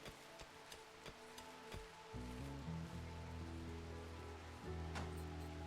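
Rain falling in the RimWorld colony game, a soft steady patter with scattered ticking drops, under a low droning hum of game music and tones, with no talk.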